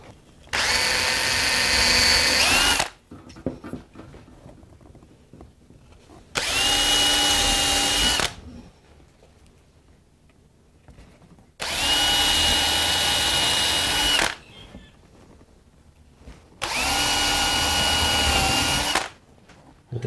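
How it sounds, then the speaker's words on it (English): A power drill bores pilot holes into clamped wood in four loud, sustained whirring bursts of a few seconds each, separated by quiet pauses, heard up close. "The idea for pilot holes is so that the screws won't split the wood."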